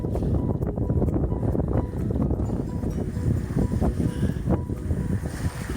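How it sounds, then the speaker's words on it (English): A sailboat tacks upwind at about 6 knots, its hull rushing through water under heavy, constant wind buffeting on the microphone, loud and close throughout. "We're tacking up wind."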